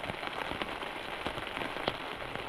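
Steady rain falls on a forest campsite, a dense, continuous patter of drops close by with no pauses and no voices.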